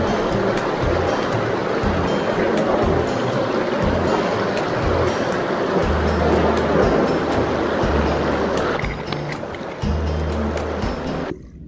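Cold mountain river water rushing steadily around a person standing in the river while gold sniping, a loud, continuous close-up wash and gurgle with low thumping pulses beneath.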